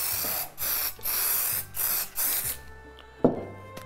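Several hissing aerosol bursts of spray adhesive for static grass modelling, close and loud, each lasting about half a second with short gaps, followed by a quiet stretch and a soft knock.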